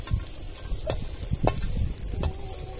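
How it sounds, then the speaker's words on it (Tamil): Shallots, garlic, pepper, cumin and fennel are stir-fried in a pan for a village-style country chicken pepper fry, with a steady sizzle under repeated scraping stirs of a spoon. "மிளகு, சீரகம், பெருஞ்சீரகம் 3 போட்டு கிண்டணும்."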